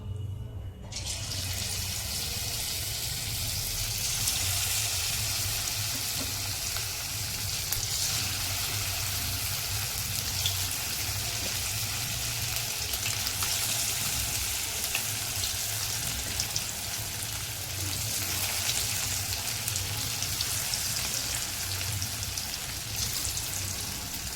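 Chicken pieces for chilli chicken fry in hot oil with a steady, loud sizzle and crackle that runs unbroken throughout, with no voices.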